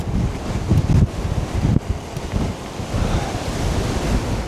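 Strong wind buffets the microphone while riding a Cyrusher Roam e-bike, a constant loud roaring rumble with gusty surges and no talk.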